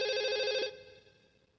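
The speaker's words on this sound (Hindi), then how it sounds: "तुम्हारा फोन है।" A telephone bell rings once in a bright sustained trill, then cuts off and fades into quiet.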